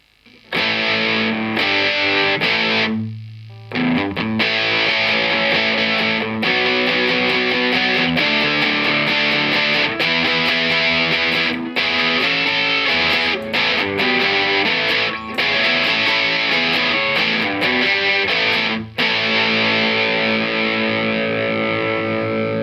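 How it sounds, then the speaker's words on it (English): Distorted electric guitar played through a Fender Tone Master Deluxe Reverb amp with pedals, a loud, dense, continuous stream of chords and notes with one brief pause near the start. "I think also the Tone Master works great with pedals."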